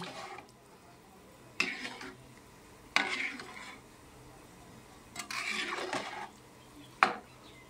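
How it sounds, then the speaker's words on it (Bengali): A spoon scrapes and stirs fried pumpkin and potato into oily khichdi in a cooking pot, heard as five or so short, quiet scraping bursts separated by near silence. "তো এখন একটু আরেকটু নাড়াচাড়া দেবো"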